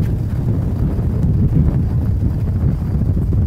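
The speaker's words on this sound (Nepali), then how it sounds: "डरलाग्दो हावा आउँदो रहेछ" Strong wind buffets the microphone atop a hilltop viewing tower in Ilam, Nepal, a loud, steady low roar with gusty surges throughout, no voices.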